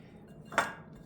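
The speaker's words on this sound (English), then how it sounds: "Now with that, we're going to give that a hand mix right here." Shrimp seasoned with black pepper and spices are mixed by hand in a bowl, giving one brief clink of a dish or utensil amid quiet faint rustling.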